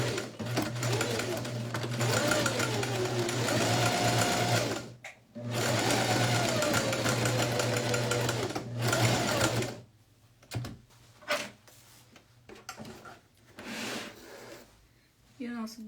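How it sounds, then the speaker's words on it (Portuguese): A sewing machine stitches a pocket closed in two long loud runs of whirring hum, then stops and gives way to quieter handling and rustling, all close by. "Cuidado pra você não costurar em cima do bolso, tá?"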